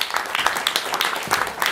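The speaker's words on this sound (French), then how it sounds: "je vous prie d'applaudir très fort" Audience applause at the Diderot prize award ceremony in 2015, a brief burst of steady clapping filling the room, moderately loud with a slight uneven flutter.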